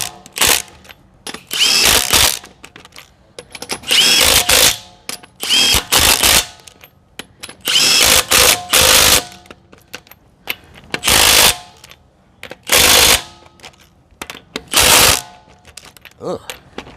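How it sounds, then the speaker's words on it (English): A Milwaukee cordless impact wrench hammers on a tough automotive fastener, firing in loud, rattling bursts of one to two seconds, separated by short quiet pauses, about nine bursts in all, close to the listener. "The cordless, if you have a tough fastener, it will beat up your fastener like crazy."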